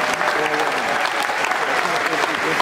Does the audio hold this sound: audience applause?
yes